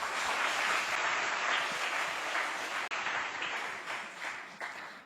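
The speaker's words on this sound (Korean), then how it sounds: "우리 박수로 환영하겠습니다." A church congregation at a Thanksgiving Sunday morning service claps to welcome a preacher, a dense, steady round of applause that fades slightly toward the end.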